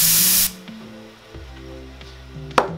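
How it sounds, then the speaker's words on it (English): A coffee machine's steam wand being purged: a loud, close burst of hissing steam for about half a second, followed by a low machine hum and a few faint knocks. "wipe the steam arm straight away, give it a purge."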